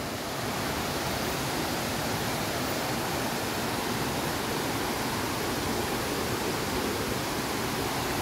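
Twin Falls waterfall in Dimiao, a steady broadband roar of falling water, loud and unbroken from start to finish with no voices.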